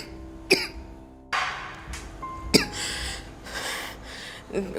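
A person coughs in short bursts, with harsh hacking fits separated by pauses and gasping breaths, recorded close up in a quiet indoor room.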